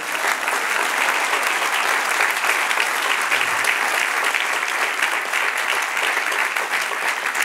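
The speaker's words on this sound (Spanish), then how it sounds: "Dale un aplauso al Señor." Church congregation applauding steadily and loudly for the whole span, a dense wash of clapping from many hands with no pause.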